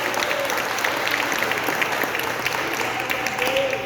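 A church congregation claps steadily at a moderate level, with a few voices murmuring under the dense applause.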